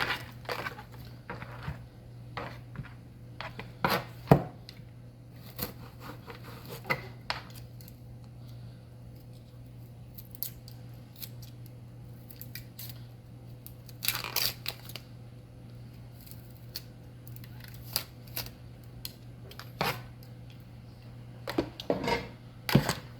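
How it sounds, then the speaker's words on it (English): Half an onion is chopped on a board, with a quiet run of sharp knife taps and clicks coming in irregular bursts over a steady low hum. "I'm just about to cut up some onion"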